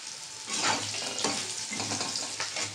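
Boiled jackfruit seeds and pointed gourd stirred in a pan, with a steady close sizzle and scraping stirring strokes recurring every second or so, no talk.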